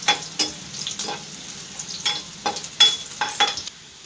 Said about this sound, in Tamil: இப்போ பூண்டை உள்ளே போடுறோம். இப்போ அதை நல்லா நம்ம வதக்கிக்கிறோம்.